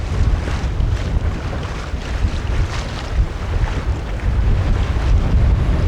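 Sailboat beating to windward at sea, a loud, steady rush of wind and water with gusting buffets against the hull, continuous throughout with no voices.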